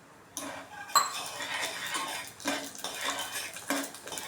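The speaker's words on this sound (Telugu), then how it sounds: "ఇప్పుడు కీనువా కూడా యాడ్ చేస్తున్నాను" Quinoa being stirred in a pan with moong dal, a metal spoon repeatedly scraping and clinking against the pan in uneven strokes, close and clear, with a few louder knocks.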